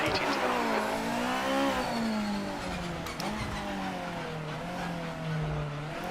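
A GT500 race car engine roars in the video game Project Motor Racing, a loud sustained drone whose pitch climbs and drops through gear changes, with hints of tire squeal.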